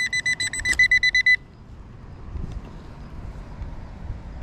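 Metal detector sweeping a back yard gives a rapid run of sharp, close electronic beeps, about a dozen evenly spaced pulses, then cuts out and leaves quiet outdoor shuffling and soft thuds.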